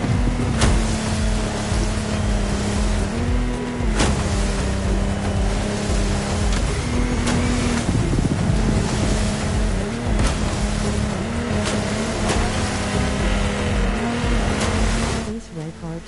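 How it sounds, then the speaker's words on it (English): The Lamborghini Technomar offshore powerboat in The Crew Motorfest video game runs loud and steady for the whole stretch, its engine drone mixed with water and wave noise, with game music and a voice over it. "This time we're going offshore with way bigger boats, including the incredible Lamborghini Technomar."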